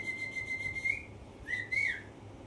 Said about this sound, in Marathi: ती शिट्टी बाजून दाखवतोय, तोंडात बोट घालून आहे का